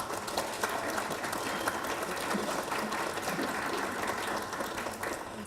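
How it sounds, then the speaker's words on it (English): An audience at a Sigma Beta Delta awards ceremony in Grand Cayman applauds new inductees, with dense, continuous clapping that stays steady and moderately loud throughout. "Let's give all of our new inductees a round of applause."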